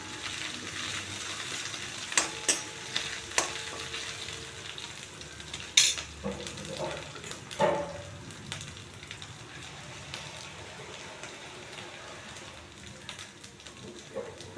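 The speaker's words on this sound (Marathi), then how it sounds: "थोडासा तांबूस कलर आल्यावर त्याला फिरवून घ्यायचं चमच्याने।" Methi bhaji, fenugreek leaves, frying in a pan while a spoon stirs it, a faint steady sizzle with occasional soft scraping clicks and taps of the spoon, quiet and close.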